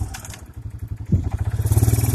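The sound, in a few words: Kawasaki Bayou 220 four-wheeler engine running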